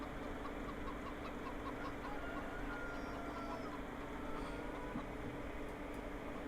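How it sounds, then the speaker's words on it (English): Chickens clucking faintly and steadily through dense, continuous background noise, with some low engine-like rumble underneath and no clear talking. "I hear chickens."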